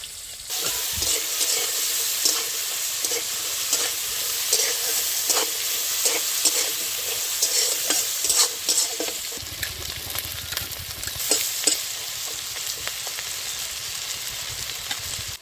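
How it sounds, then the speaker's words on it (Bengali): Crabs fry in a hot pan with a steady, loud sizzle and scattered crackles and pops, with occasional scraping of a utensil. No voices. "কাঁকড়াগুলো দিয়ে দিলাম। কাঁকড়া ভাজা হতে হতে"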